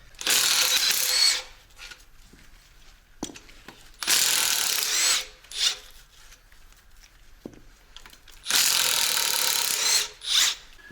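Ratcheting power tool unscrewing bolts on the head of a Hanomag 44D loader engine, three loud whirring bursts with short follow-up pulses, separated by quieter pauses with metallic clanks.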